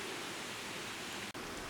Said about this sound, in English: This is actually part of that waterfall.